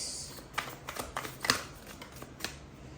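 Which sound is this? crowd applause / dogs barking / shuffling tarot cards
shuffling tarot cards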